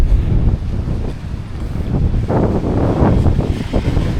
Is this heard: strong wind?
yes